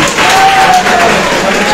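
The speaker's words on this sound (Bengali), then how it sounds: "আমরা সকল শিক্ষার্থী হাত করতালির মাধ্যমে বরণ" Students applauding together to welcome a former Bangladesh agriculture secretary at a reception, a steady wash of clapping filling the room for the whole stretch with voices faintly mixed in.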